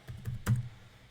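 New dice tossed in a short roll onto a hard floor during craps dice practice, a few light clacks followed by one sharper, louder hit as they land, alone and fairly close.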